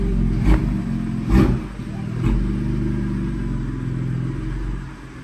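A BMW M3 F80 with Eventuri intakes and a manual gearbox, its engine idling low and steady with a few short revs swelling and falling, near and moderately loud, with faint voices in the background.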